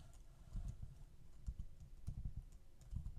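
Typing on a computer keyboard while editing a document, quiet close keystrokes in short irregular runs, faint and alone.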